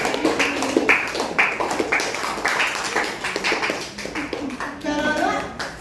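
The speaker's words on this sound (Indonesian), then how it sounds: "tepuk tangan semuanya untuk saya" Applause in a school classroom during a plant growth and germination lesson, with a burst of hand clapping from students that runs through the clip while a voice and other chatter are heard around it.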